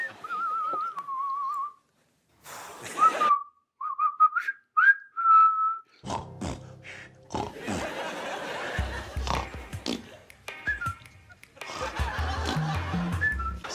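A person whistles a short rhythmic tune in clear, bouncy bursts, then a group breaks into snickering and laughter that runs over the rest.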